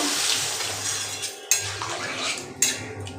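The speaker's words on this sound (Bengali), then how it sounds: "দিয়ে দেব জল" Water poured into spiced masala in a pan while making a paneer and soya chunk curry, a steady watery rush with two sharp clinks of metal against the pan, close and clear with no talking.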